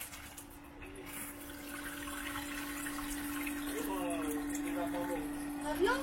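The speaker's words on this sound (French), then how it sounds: "ici sous l'évier, tout le système, on va vérifier aussi que tout ça" Water running from a sink tap in a converted camper van, a steady hiss of flowing water with a faint hum underneath and a person speaking briefly near the end.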